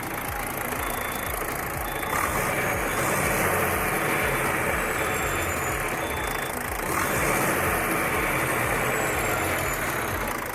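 A DAF truck engine in engine protection mode with EGR and back-pressure valve faults, running steadily as a loud close rumble that swells, settles, then surges again before easing back toward idle.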